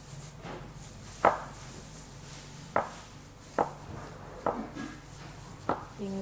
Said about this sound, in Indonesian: Tinggal kita potong-potong aja semuanya.